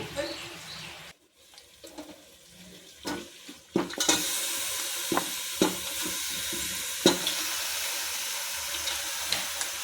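Chicken hits golden-fried onions in a pan for Rayalaseema chicken curry, setting off a loud, steady sizzle after a brief quiet gap, with close stirring scrapes and clatter throughout.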